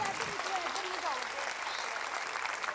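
A congregation at a church meeting applauds in a steady wash of clapping, with faint voices mixed in.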